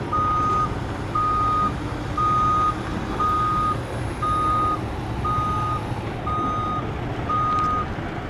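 A semi truck backing its trailer sounds a regular series of eight loud reversing beeps over a constant diesel engine rumble, close by and with no one talking.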